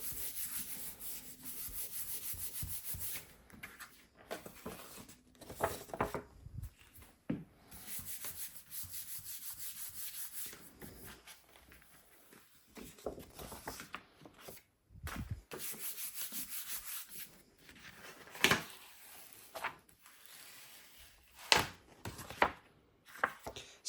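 Paper prints are rubbed by hand onto a gelli printing plate, giving soft, scratchy rubbing and brushing strokes in uneven bursts, close and fairly quiet, with short pauses between passes.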